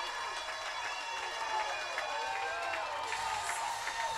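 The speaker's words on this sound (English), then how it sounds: "And the crowd is going wild here at Cardees Field" Baseball crowd at Cardines Field cheering after a three-run home run in a Newport Gulls game, a continuous distant roar of cheers and whoops with scattered claps, fairly faint and wide, under a commentator's voice.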